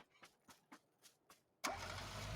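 A car engine starts in a video game: several soft, evenly spaced cranking pulses, then the engine catches and settles into a loud, steady run.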